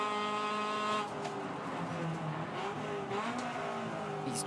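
Toyota 86 race cars at Sydney Motorsport Park drone loudly through a corner, engine note dipping as throttle lifts then climbing again, with other cars' engines layered nearby.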